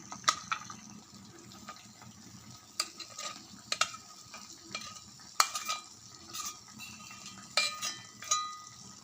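A spoon scrapes and stirs rava kesari in a pan with oil, cashews and raisins, giving irregular clicks and knocks over a low, soft sizzle, close by, with no voices.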